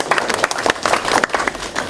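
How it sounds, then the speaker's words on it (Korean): A room full of people at a Korean campaign committee plenary meeting claps hard together in sustained, dense applause across the whole stretch, loud and close. "박수를 같이 한번 세게 치시죠"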